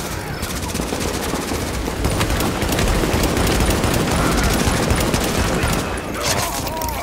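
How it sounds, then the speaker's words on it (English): Machine gun fire in the game Clear Sky, loud, dense and continuous, near and unbroken for several seconds with chaotic overlapping bursts before easing slightly at the end. "Get to the machine gun!"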